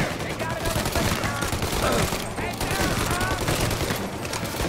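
Dense, continuous gunfire from a shootout in the Mafia Definitive Edition video game, with rapid overlapping shots filling the whole stretch and voices talking over it.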